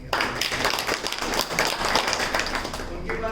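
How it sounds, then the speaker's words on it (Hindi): Audience applause at a Smart India Hackathon team presentation in Guwahati, a dense wash of many hands clapping that holds steady and fairly loud throughout. "एक बार उनके लिए तालियां हो सकती हैं।"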